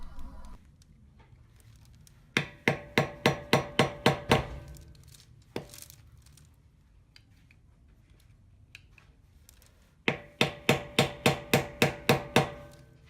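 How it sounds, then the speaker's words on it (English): Two quick runs of about eight sharp metal hammer blows on an old flat screwdriver, straightening a bolt, each a steady rhythmic tapping, with a single lone strike between them and quiet pauses around. "You can do this with an old flat screwdriver and with a hammer."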